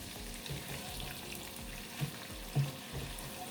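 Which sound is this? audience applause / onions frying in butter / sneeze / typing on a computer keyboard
onions frying in butter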